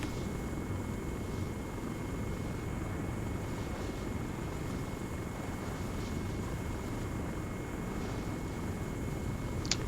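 A military helicopter in the game ARMA 3 comes in to land by coastal office buildings, its rotor and engine a constant, loud, droning roar filling the whole stretch.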